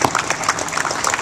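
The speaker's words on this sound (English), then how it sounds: "give them a round of applause as well" A crowd applauds district captains at a Convention of States gathering in the Ohio Statehouse, with brisk, dense clapping that is fairly loud and close throughout the short burst.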